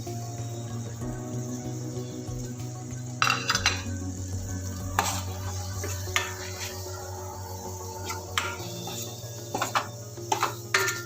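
Garam masala, coriander, turmeric and chilli powders are stirred into mushroom gravy in a pan, a spoon scraping and clinking against the metal in steady strokes over a low sizzle, with no voices.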